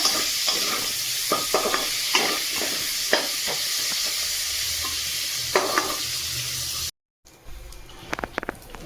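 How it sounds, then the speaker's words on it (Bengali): Nigella seeds and fenugreek crackle in hot oil left from frying bitter gourd, a steady close sizzle with scattered spatter pops, briefly cut off and then resuming more sharply. "ওই তেলের মধ্যে আমি দেব কালো জিরে আর মেথি ফোড়ন দিয়ে দিলাম"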